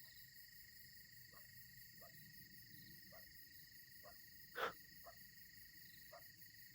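Crickets and katydids trill in a steady, high, continuous drone along a quiet country road in Wisconsin, joined by faint regular pulsing calls and one brief sharp chirp, all soft and distant.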